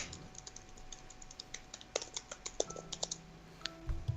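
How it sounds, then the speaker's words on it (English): Typing on a computer keyboard, quiet at first then a cluster of light, quick key clicks in an irregular patter, close but soft over a faint steady background hum, with no voices. "Just typing up all these notes, huh?"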